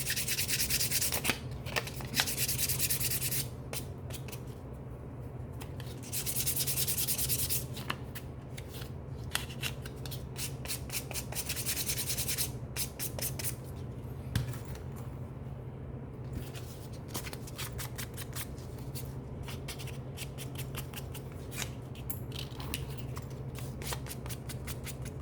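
Someone smooths the cut edge of a leather Gucci clutch with steady rasping, scraping strokes, close and dry, in repeated bursts over a low background hum with no talking.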